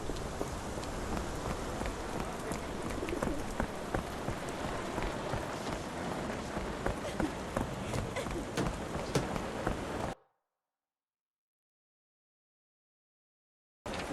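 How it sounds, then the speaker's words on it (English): Steady rainfall in the Sherlock Holmes The Awakened game, a dense even patter with scattered heavier drops that runs for about ten seconds, then cuts to silence and resumes briefly at the very end. "This dreary rain is making a miserable day even worse."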